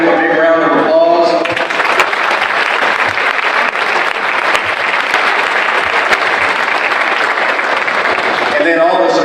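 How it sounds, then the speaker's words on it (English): Loud, dense audience applause at a high school basketball court-naming ceremony, sustained clapping for several seconds with crowd noise, preceded and followed briefly by a voice over the PA. "I'd like to give him a big round of applause."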